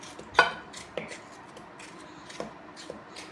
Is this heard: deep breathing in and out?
no